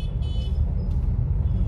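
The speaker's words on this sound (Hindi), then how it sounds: "हॉर्न बजाई जा रही टैं टैं टैं टैं" Short, bright vehicle horn toots sound a few times over a steady rumble of traffic on a busy street near a college in India.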